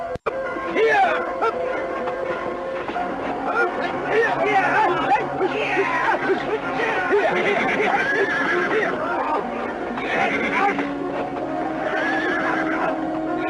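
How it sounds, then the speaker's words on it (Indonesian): Horses neigh and whinny repeatedly over a shouting, chattering crowd in a period drama scene, with hooves clopping beneath the loud, busy commotion throughout. "Ayo tangkap kuda-kuda kita."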